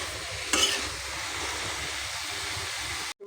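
Red amaranth greens and chana stir-fry in a pan, a steady hissing sizzle with a louder scrape at the start before it suddenly stops.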